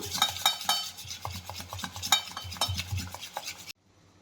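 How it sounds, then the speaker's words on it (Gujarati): Close, brisk stirring of a thick semolina batter with fruit salt in a bowl, with repeated wet scraping strokes of a spoon, ending abruptly in silence. "હલાવી લઈએ એકદમ."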